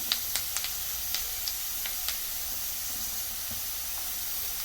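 Red chilli powder frying in oil for lemon pickle, a steady quiet hiss with a few faint crackles and pops near the start, continuous and unaccompanied.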